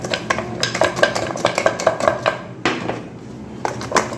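Food for Balochi tikka is mixed under a strainer cover in a pan, heard as close clattering and rattling taps of metal with scraping strokes in quick bursts.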